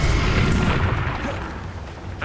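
A heavy booming blast from the Confringo fire spell in the Hogwarts Legacy video game, a single loud low-rumbling explosion that sustains and slowly fades, with a sharp crack near the end.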